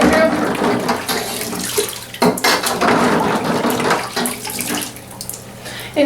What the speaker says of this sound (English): again, running a little water through.